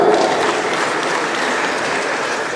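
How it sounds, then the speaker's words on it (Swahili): Sustained applause from a crowd at an ODM National Governing Council gathering in Nairobi, a dense, even wash of clapping that stays loud throughout with no speech on top. "Makofi tena."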